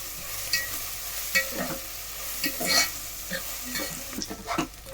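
Onion frying in a pan for a Marathi-style chicken rassa, with repeated scraping stirs over a steady soft sizzle, close and moderately loud, no voices.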